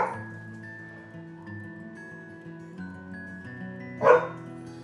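A dog playing tug makes low, drawn-out growling and whining sounds, then lets out a single sharp, loud bark near the end, heard close up with no talking.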